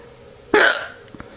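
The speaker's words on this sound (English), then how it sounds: "It's mommy hiccuping." A woman gives one sharp, loud hiccup, close by, followed by a couple of faint softer sounds afterward.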